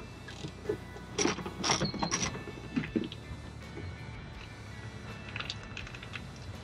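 Trim bolts being removed with an 8mm socket while setting up a Uniden CMX760 CB radio, a few faint mechanical clicks and rattles clustered early, then quieter handling noise.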